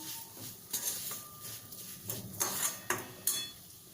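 Lemon pickle being mixed with chili powder and spices in a pot, giving quiet clinks and scrapes of a spoon against metal, several sharper knocks near the end, close and fairly faint.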